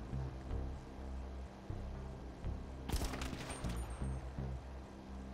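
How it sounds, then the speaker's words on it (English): Gunfire in the GTA Online video game, a short burst of sharp shots sitting over a steady low game drone, with scattered fainter pops around it. "He shot his gun as soon as he died."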